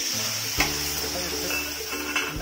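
Eggs frying in a pan with turmeric and spices for a village-style egg curry, a steady close sizzle broken by a few sharp scrapes and knocks of a spoon stirring against the pan.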